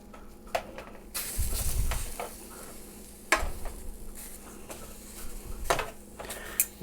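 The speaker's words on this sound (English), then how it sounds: "we'll give the other side a nice sear" Steak searing in a hot pan gives a steady broadband sizzle, with a few louder bursts as the meat shifts and is stirred, close and continuous with no talking.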